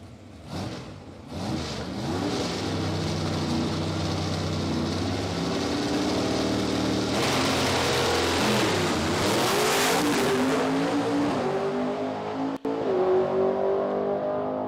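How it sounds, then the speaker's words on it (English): Nitro funny car at a drag strip test-and-tune session building revs and holding the throttle flat before the clutch drops, a loud sustained roaring engine that surges and shifts pitch, heard up close with no talking. "start to bring the revs up, hold it flat pretty much, and then"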